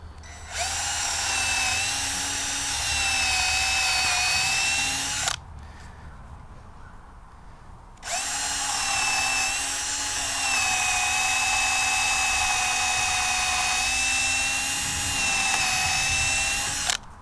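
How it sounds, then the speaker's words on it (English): A steady, high-pitched power drill whines loudly for about five seconds drilling pilot holes in wood, stops briefly, then runs again for a long continuous stretch. "what we're going to do is drill a pilot hole in each one of these."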